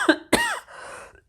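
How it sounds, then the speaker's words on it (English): Two sharp coughs, close and loud, the second followed by a raspy exhale that trails off into quiet. "Sorry, I'm going to cough."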